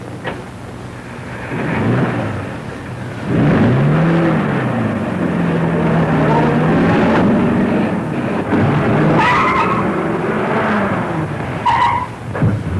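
An old 1940s car skids with a squeal, then its engine roars as it pulls away, loud and close, with the motor droning on and fading near the end.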